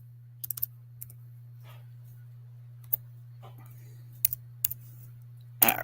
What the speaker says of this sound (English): I was almost done typing that there.